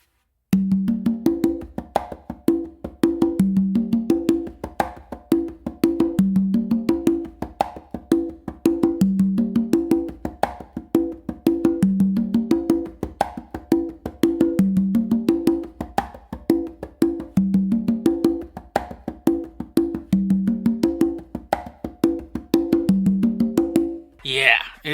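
Congas play a melodic funk groove including an open tone, a repeating pattern of ringing drum hits over a steady rapid pulse, close and clear with no voices.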